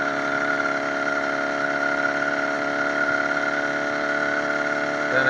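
A 66cc motorized bicycle engine screams at wide open throttle, a steady buzzing drone with a strong constant pitch and no letup, close and loud.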